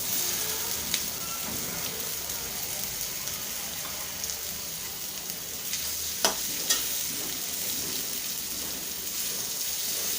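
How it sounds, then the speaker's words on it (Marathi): Boiled potato pieces go into hot tempering in a pan and fry with a steady, dense sizzle, joined by a few close scraping knocks of a spoon stirring. "आता आपण जो बटाट्याच्या फोडी करून घेतलेल्या आहे उकळलेल्या ते टाकून घेऊया।"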